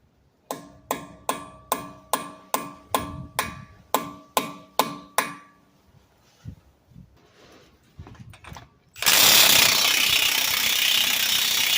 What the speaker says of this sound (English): To unstake the nut, I use a punch and a hammer.